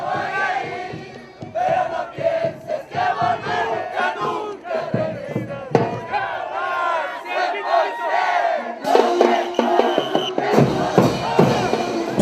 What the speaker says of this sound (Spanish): escuchamos los cánticos de la fraternidad